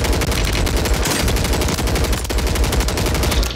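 Sniper rifle fire in a video game: a loud, dense run of sharp gunshot cracks that continues through the whole stretch with no pause or talk.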